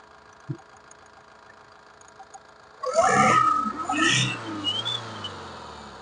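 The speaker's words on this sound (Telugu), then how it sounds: "ఇంజన్ స్టార్ట్ చేసి కూడా చూపిస్తాను, ఒకసారి చూసుకోవచ్చు సార్" After a few quiet seconds, the engine of a 2015 Honda Amaze VX suddenly starts up loudly and settles into a close, humming idle.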